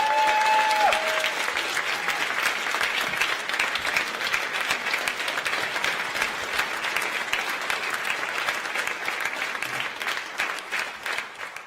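A rally audience applauds a deputy of La France Insoumise in Toulon, steady dense clapping sustained throughout at close range, with a brief whistle-like tone near the start.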